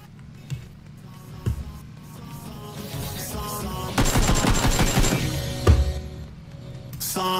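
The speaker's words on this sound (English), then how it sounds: "Who's shooting at me?" Video game gunfire: scattered single shots, then a loud, sustained automatic burst in the middle, trailing into more sporadic shots over a low background hum.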